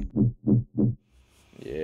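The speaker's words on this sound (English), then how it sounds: "It's just basically a lot of like whoops and wobbles." Three short, deep pulsing whoop-like hits from chopped Splice one-shot samples thump in an even rhythm, followed by a rising, warbling wobble tone at the end.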